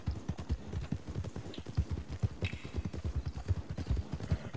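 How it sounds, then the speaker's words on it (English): Horse hooves clip-clop steadily in a PS4 video game, a fast, even run of soft thuds carrying through the whole stretch at moderate level without any voice over it. "This guy got a prisoner on his horse."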